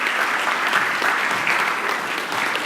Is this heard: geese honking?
no